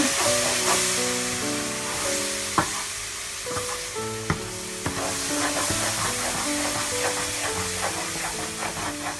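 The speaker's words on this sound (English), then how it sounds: "Mixing it well so that it doesn't burn." Thick mawa stirred with a spoon in a hot pan on the stove, a steady close sizzle and hiss with scraping strokes and a few sharp knocks against the metal.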